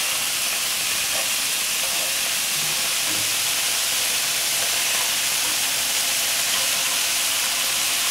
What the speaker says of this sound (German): Den aus der Hautseite braten.